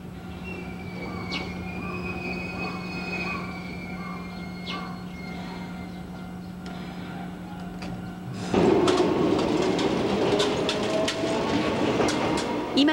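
Enoden electric train bound for Fujisawa running on rails, a steady rolling rumble with faint rail clicks that swells sharply louder and denser partway through as the train passes close by.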